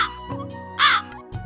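A cartoon crow gives a single sharp caw midway through, loud and close, over soft background music.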